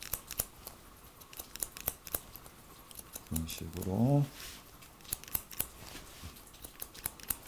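Barber scissors snip hair during a short Korean-style haircut, cutting a line at the side. Crisp metallic clicks repeat steadily and close by, with a brief run of quick snips in the middle and a short spoken remark.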